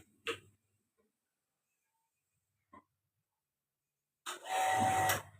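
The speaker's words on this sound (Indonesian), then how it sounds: "Kemudian kita nyalakan dulu kompornya." A gas kitchen stove is switched on: a couple of faint, sharp clicks from the knob and igniter with silence between, then a close, breathy burst as the burner catches.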